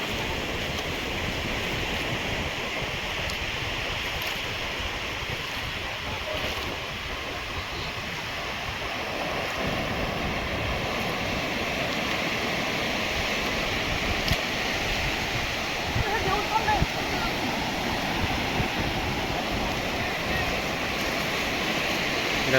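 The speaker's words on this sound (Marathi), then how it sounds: "आलो देवगड बीचवर." Sea waves roll onto Devgad beach on the Konkan coast in a steady, continuous surf roar that swells gradually louder toward the end. Occasional faint background voices sit beneath the water.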